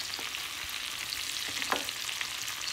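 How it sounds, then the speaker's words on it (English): Garlic butter shrimp is stirred in a frying pan, a soft continuous sizzle with scraping spatula strokes and a brief clack of utensil against pan, close and fairly quiet, with no talking. "Now, we'll mix it all together."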